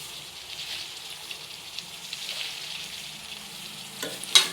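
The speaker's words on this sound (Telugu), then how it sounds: "దీనిలోకి మనం కట్ చేసి పెట్టుకున్న కూరగాయలు వేసేసుకుందాం." Chopped vegetables for a mixed vegetable curry hit a hot pan with softened onions, giving a soft, steady sizzle with faint stirring and a brief louder clatter near the end.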